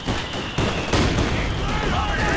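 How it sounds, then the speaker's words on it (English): Gunfire in the World War II strategy game Company of Heroes 2, a dense crackle of rifle and machine gun shots layered over battlefield noise, with commentary talking throughout. "Rattling off a few shots."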